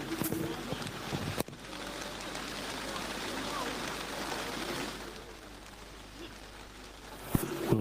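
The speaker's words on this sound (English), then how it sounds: "thank you for the rain" Steady rain falls throughout an outdoor commemorative ceremony at a local football ground, a broad, even hiss with a brief spoken line near the start and a couple of sharp knocks.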